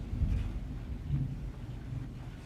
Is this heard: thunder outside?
yes